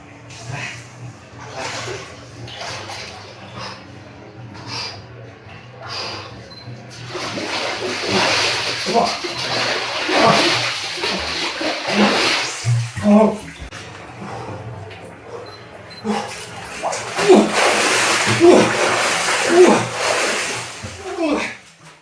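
Person plunging into cold spring water in a wooden font in a forest, with splashing and sloshing water rising and falling over about twenty seconds, close up, mixed with people talking and exclaiming.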